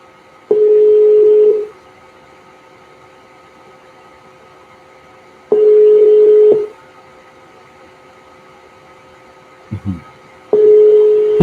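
A phone call rings out as a series of steady tonal beeps, each lasting about a second, separated by long silent gaps, with a brief click or knock between the later tones.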